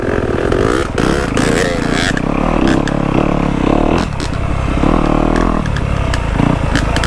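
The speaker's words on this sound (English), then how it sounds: "I love 2-strokes. Especially these woods bikes." A two-stroke woods dirt bike ridden on a forest trail gives a loud, close, buzzy engine note that rises and falls with the throttle, with scrapes and clatters from the rough ground.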